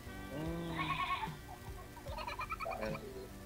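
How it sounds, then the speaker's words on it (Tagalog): Two drawn-out, wavering goat bleats, close and loud, separated by a short pause, with faint clucking in the background. "May kambing ako narinig."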